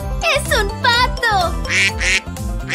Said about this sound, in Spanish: ¡Es un pato!